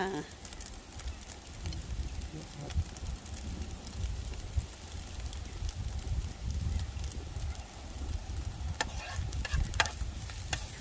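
Steady sizzling and scraping of fried rice being stir-fried in a hot wok outdoors by a river, with occasional metallic clinks, close and continuous, and soft voices in the background.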